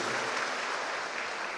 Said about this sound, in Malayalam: നമുക്കെല്ലാവർക്കും ഒരു കൈയടി നൽകി അവർക്ക് ആശംസകൾ നൽകുക